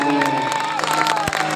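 An audience claps and cheers at a live Chhattisgarhi stage show, with dense mixed applause and crowd noise under a steady sustained musical tone over a short stretch.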